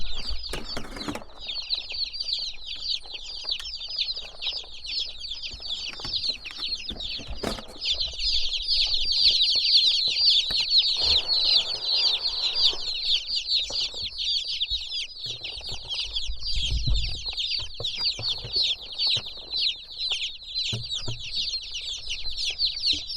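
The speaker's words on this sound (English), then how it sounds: "So these are our first batch of our meat chickens." Young Freedom Ranger-type broiler meat chicks, a first batch of fifty, cheep and cluck steadily in a box at close range, with brief wing flapping and rustling throughout and no talk.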